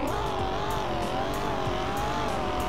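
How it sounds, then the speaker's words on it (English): A car in the racing game Greenville accelerating hard from a standstill in a 0 to 100 test, a steady rising engine drone with gear-shift blips, loud and continuous with no speech. "let's do a 0 to 100 and braking test"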